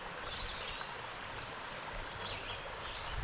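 Creek water flowing along a hiking trail, a steady soft rush and babble, with faint bird chirps drifting over it now and then.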